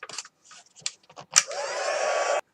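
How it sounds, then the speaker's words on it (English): A heat gun blows steadily for about a second, melting pale pink embossing powder and drying glue on a paper flower; a steady airy roar follows a few faint taps and handling sounds, then cuts off abruptly. "I'm just going to melt that with a heat gun, just to melt the powder and obviously dry the glue at the same time"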